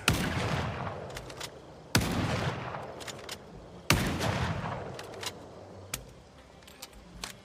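Four heavy single shots from a .308 rifle in a video game, spaced about two seconds apart, each a sharp loud crack with a decaying echo, plus faint clicks between shots.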